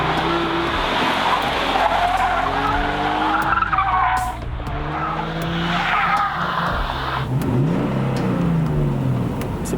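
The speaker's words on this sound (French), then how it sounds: "Haut dans les tours, le moteur chante vraiment bien." Nissan 370Z Nismo sports car at high revs, its engine loud and continuous with pitch sweeping up and down through gear changes, tires squealing and skidding at moments, no talking.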